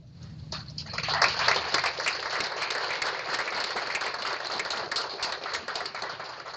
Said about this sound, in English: so we can give you all a round of applause for all you do every day